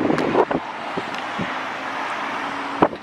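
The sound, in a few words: wind blowing outdoors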